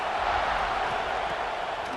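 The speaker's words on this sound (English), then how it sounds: "This crowd ready to make its presence known." A stadium crowd in the video game College Football 26 gives off a steady, dense roar of cheering and murmur that holds even and loud throughout, with no clear breaks.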